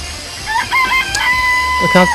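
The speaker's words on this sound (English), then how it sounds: "I know there was some chickens in the chicken coop." Chickens in the video game Danganronpa: Trigger Happy Havoc cluck in short, bright bursts over a steady low hum, with a few squawks near the end; the calls sound synthetic, like game audio.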